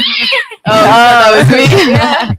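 A person's voice imitates a cat's meow, loud and close, a drawn-out wavering yowl after a short opening cry, with a brief spoken remark nearby.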